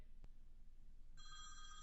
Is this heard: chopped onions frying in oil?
no